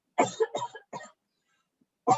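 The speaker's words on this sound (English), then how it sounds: "I'm going to cough for 1 minute." Four short coughs in quick succession from one person close by, the first three bunched together, then a brief pause before a final cough.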